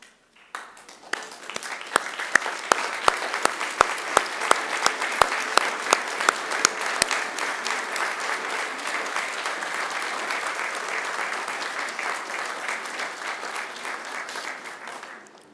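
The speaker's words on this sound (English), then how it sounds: "thank them with a round of applause" A large graduation audience of friends and family applauds in a ceremony hall, sustained dense clapping that starts abruptly, with several sharp nearby claps standing out early, then settles into a steady wash for the rest.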